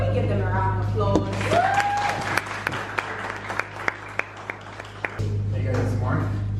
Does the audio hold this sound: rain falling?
no